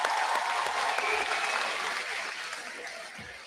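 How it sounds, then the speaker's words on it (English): Sustained applause from a graduation ceremony audience honoring a final group of graduates, a dense wash of clapping that holds steady and then slowly fades, with no talk over it. "Can we get another round of applause for our final group of grads?"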